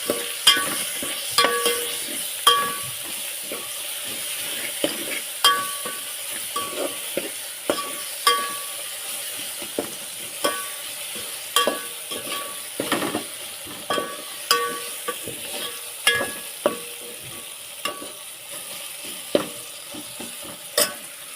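Cowpea pods with salt and turmeric sautéing in a pan, a soft steady sizzle broken by repeated scraping stirs and light clinks of the utensil against the pan, with no talking.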